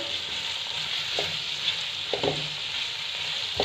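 Vegetables for a biryani, with potatoes and carrots, sizzle and fry steadily in oil over a high flame. A few soft stirring knocks break through the continuous hiss.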